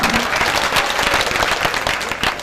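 Loud, dense applause from a jawabi kirtan folk-performance audience, a steady wash of many clapping hands that fills the whole moment without pause.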